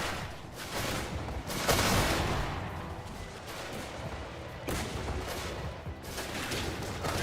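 Cannon and musket fire rumble through a video game battle, with repeated booms and crackling volleys blending into a continuous, loud wash of gunfire.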